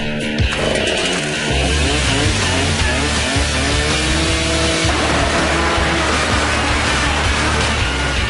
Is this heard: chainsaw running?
yes